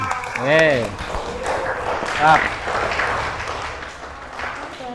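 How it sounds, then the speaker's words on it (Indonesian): An audience claps in a lecture hall during a university teacher-training session. The steady clapping is mixed with voices and brief shouts, with a louder burst near the start and again midway. "Tepuk tangan."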